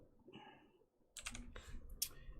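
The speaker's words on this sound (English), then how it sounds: "Oh, except for I'm typing in caps." Quick bursts of keystrokes on a computer keyboard during a live stream: a short run of close, crisp clicks after a quieter opening, with no one talking.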